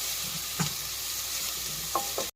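Capsicum and other vegetables sizzle softly in a pan with a few scraping stirs of a spatula, close and steady, no voices.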